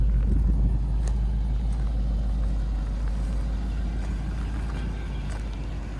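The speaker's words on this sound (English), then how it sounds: "got that V8 boat sound" A 2002 Range Rover P38 Westminster's V8 engine runs with a steady, deep, burbling low rumble, even and continuous with only faint higher-pitched ticks above it.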